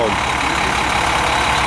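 A 450 cubic inch Cummins diesel engine in a 1997 motorhome, freshly fitted with a new starter, idling steadily at close range with a low even rumble over a short stretch.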